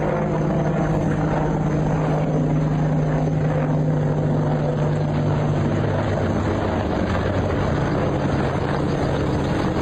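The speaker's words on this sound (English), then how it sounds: "Is that helicopter following you?" A helicopter drones steadily overhead with a continuous rotor rumble and a sustained low hum, loud and close throughout, with no talking.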